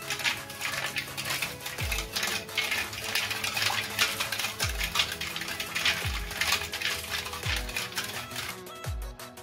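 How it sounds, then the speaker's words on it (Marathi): A spoon stirs and clinks against a bowl while lassi ingredients are mixed with milk at home, with repeated metallic taps and scraping in a steady rhythm, close and fairly quiet. "आता आपण हे छान मिक्स करून घेऊया।"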